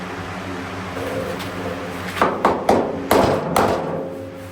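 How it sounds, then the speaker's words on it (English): A hammer and dolly strike the hood panel of a Subaru-engined Beetle under repair: five or six close, fairly loud metallic thuds in an irregular cluster after a stretch of quiet workshop hum. "I wonder if I can hit it with any of the dollies inside."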